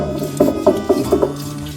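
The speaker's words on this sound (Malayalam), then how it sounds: "ജാതിത്തോടച്ചാൻ ചതച്ച് തുടങ്ങിയേ." Nutmeg rind being crushed for a Kerala nutmeg chutney, a series of five or six dull rhythmic pounding knocks close by, with no talk.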